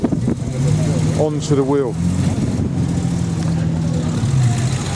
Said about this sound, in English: got to be a bit careful walking behind the cars now because they're all starting to reverse out